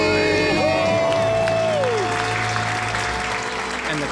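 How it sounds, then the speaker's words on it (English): Studio crowd cheering and applauding after a couple's debt-free scream, steady dense applause with whoops and a sustained held tone sliding across the middle, loud throughout. "And the crowd goes wild."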